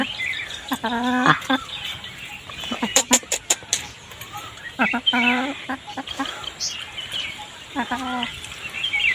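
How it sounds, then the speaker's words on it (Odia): A chicken forages on the ground, giving intermittent bursts of short, nasal clucks at close range, with quieter pauses between the bursts. "ଆଉ ଏଇଠି ମୋ କୁକୁଡ଼ା, ମୋ ପୁଅର କୁକୁଡ଼ା ଏଇଠି ଚରୁଛି। କୁକୁଡ଼ା କହୁଛି ହଁ ହଁ ହଁ।"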